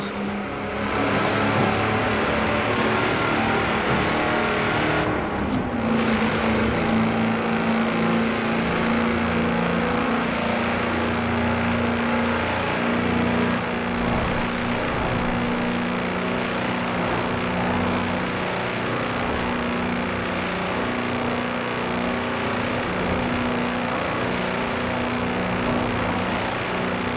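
A tractor in Forza Horizon 4, clocked at 87.2 mph as the world's fastest, runs flat out with a loud sustained engine drone at high revs, steady and close for nearly half a minute.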